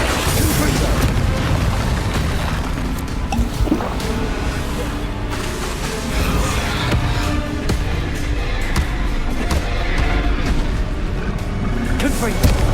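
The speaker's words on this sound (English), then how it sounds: "Confringo" Fiery Confringo spell blasts in Hogwarts Legacy go off as a continuous run of deep booms and roaring bursts, packed close together under a constant wash of game noise and voices.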